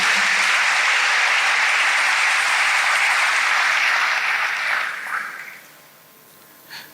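A church congregation applauding loudly and steadily at close range, then the clapping thins out and fades over the last two seconds.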